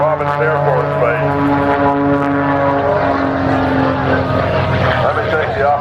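An airplane flies at the Robins Air Force Base air show, a loud, steady propeller drone with a sustained engine tone, while an announcer talks over it.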